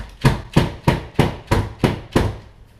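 Seven evenly spaced, dull knocks of a baking tray of macarons being tapped down on a counter, steady rhythm and close by, with no voices.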